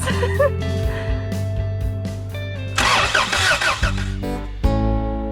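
A 1987 Toyota Hiace van engine, just back together after a head gasket repair, cranks repeatedly in loud bursts, catches and stumbles, then fires up into a rough idle with brief revs, close to the microphone.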